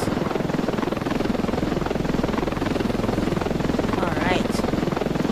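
A helicopter in the video game Ravenfield roars with a loud, steady rotor chop and engine drone that fills the whole stretch, with a brief rising whine near the end.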